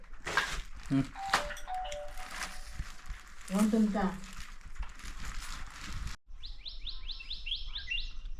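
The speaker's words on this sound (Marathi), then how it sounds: "पक्ष्यांचा किलबिड बघा एकदम भारी आवाज येतो आहे" Birds in a Konkan village orchard at six in the evening: bright, rapid chirps repeat in a quick series near the end, after a stretch where people talk and scattered clinks and tones sound.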